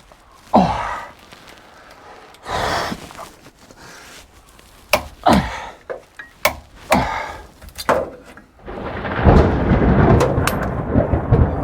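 Thunder rumbles and cracks repeatedly during a British summer rainstorm, with several loud sharp claps and rolling booms, then a steady heavy downpour of rain swelling up near the end.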